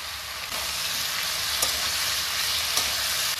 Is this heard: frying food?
yes